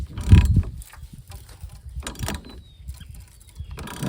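Ratchet turning a mini squarebody truck's engine crankshaft by hand, a few close mechanical clicks and clunks in short irregular bursts, with a faint outdoor background between them.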